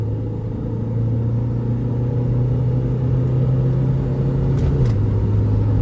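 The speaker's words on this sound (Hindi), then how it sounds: "भाई रोलिंग में एंडेवर ने गियर नीचे करा और चली गई वो।" A Ford Endeavour 3.2 downshifts and accelerates in a rolling drag race, heard as a loud, steady engine drone and road rumble from inside a vehicle, with the engine tone dropping in pitch near the end.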